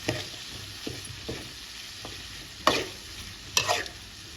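Ivy gourd frying with garlic in a pan, a soft steady sizzle broken by scraping stirs and two sharper clanks of the spatula against the pan, close up with no talking.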